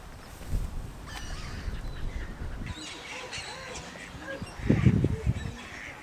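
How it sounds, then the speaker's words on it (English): Mallard ducks at a local park give a few loud, close honking quacks near the end, over steady outdoor background noise and a few scattered faint calls. "I'm just looking at this rather attractive female mallard, which I'm going to photograph"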